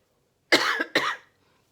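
Two quick, dry coughs from one person, close and fairly soft, in an otherwise quiet room.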